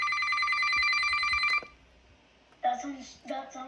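Emerson CKW2000 radio producing a telephone ring alert tone, a loud, steady electronic ringing that lasts about a second and a half, then cuts off before a person speaks briefly.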